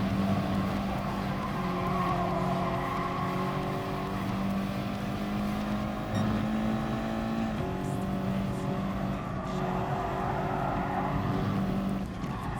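A car in the racing game Gran Turismo Sport laps a circuit, its engine droning steadily and rising and falling through gear changes, with faint tire noise throughout.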